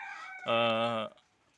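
A chicken squawks once in a loud, drawn-out call lasting about half a second, close by, with quiet surroundings before and after.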